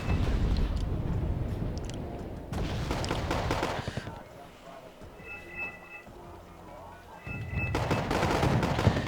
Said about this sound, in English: Bradley does try to scare it off with his Bushmaster cannon